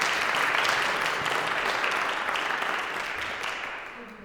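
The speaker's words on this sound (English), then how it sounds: "So please, a round of applause." Warm, sustained applause from an audience fills the room, gradually tapering off toward the end.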